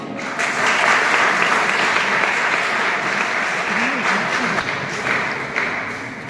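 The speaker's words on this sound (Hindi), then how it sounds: "जोरदार तालियां" An audience gives loud applause after a pharmacy students' speech, dense continuous clapping that holds steady from start to finish with a slight fade near the end.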